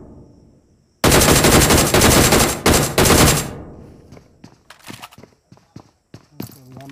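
Gunfire in Battlegrounds Mobile India during a tournament match: a loud, sustained automatic burst lasting about two and a half seconds, followed by scattered single shots and footstep-like taps.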